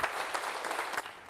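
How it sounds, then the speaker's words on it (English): Audience applause at a Brightcon 2025 conference session, a steady wash of clapping from a crowd with a few louder bursts, filling the whole short moment without any talk. "give a big applause for Valentin."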